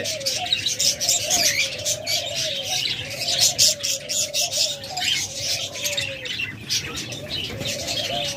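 Pet lovebirds, cockatiels and budgerigars kept as breeding pairs call close by in repeated rising, chirping notes, with a busy layer of bright chatter and tweets running continuously behind them.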